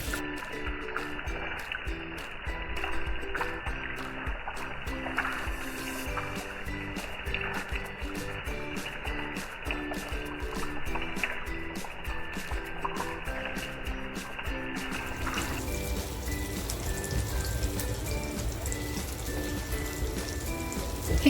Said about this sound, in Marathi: मच्छी एक बाजूनी फ्राय झालेली आहे